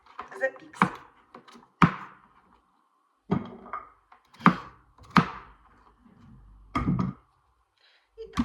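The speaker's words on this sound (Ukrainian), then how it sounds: "І зараз наріжемо на шматки невеличкі, щоб він у нас швиденько запікся." A knife chopping pumpkin into small pieces on a board, with irregular solid thunks and scraping strokes spaced across the moment, close and clear, with quiet pauses between cuts.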